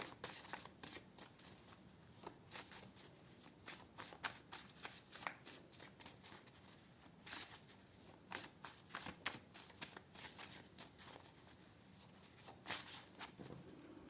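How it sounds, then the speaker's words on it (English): Health and lifestyle cards being shuffled close up, with quiet, rapid, irregular riffling and slapping bursts that continue throughout without talk. "I'm gonna pull some health and lifestyle cards for you as well."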